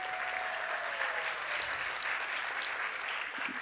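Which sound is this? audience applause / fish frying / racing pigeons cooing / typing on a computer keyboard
audience applause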